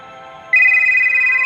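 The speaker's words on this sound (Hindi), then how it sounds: "फोन पर कॉल आने लगा" A mobile phone ringtone for an incoming call starts abruptly after a brief pause, then rings on as a loud, steady electronic tone that fills the rest of the moment.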